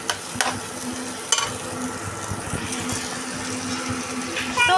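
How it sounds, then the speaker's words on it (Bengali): Onions frying in a home kitchen pan, a continuous soft sizzle with occasional clicks and scrapes of stirring, close by and fairly even. "এই তো পেঁয়াজ তো ভাজছি"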